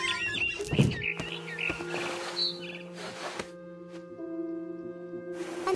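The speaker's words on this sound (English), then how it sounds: "It was a barn swallow going back to her nest." A barn swallow chirps in a video game, giving a few short, bright calls over steady ambient game tones and occasional soft thumps.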